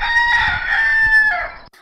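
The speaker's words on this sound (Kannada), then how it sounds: "ಆಮೇಲೆ ಆ ಹುಂಜ," A rooster crows once in a long, loud, drawn-out call close by, fading off at the end into near silence.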